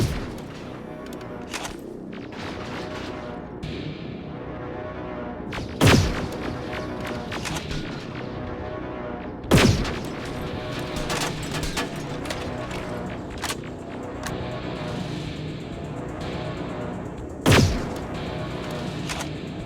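Gunfire in Terminator Resistance during a fight with an infiltrator: steady bursts of shots crackle throughout, punctuated by several loud booming blasts, with no talking.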